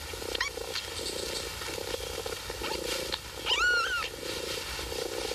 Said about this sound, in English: has produced a litter of 5 kittens in a cardboard box